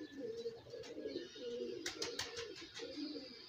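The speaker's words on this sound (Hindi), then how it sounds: "यह डब्बी कबूतरी है" Soft, repeated coos from a female pigeon close by in a quiet setting, with a few faint rustles between calls.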